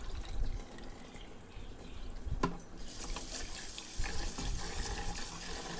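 Soaked idli rice is washed under running water from a tap, a steady faint splash and trickle that gets louder and fuller partway through as the flow strengthens, with no talking.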